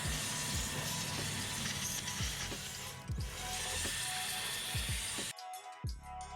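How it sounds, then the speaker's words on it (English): Compressed air blows dirt off the valve cover of an Infiniti G35/G37 engine, producing a steady broad rushing hiss with a few light clicks, stopping abruptly near the end. "Before we remove the valve cover, we want to make sure to blow away any dirt."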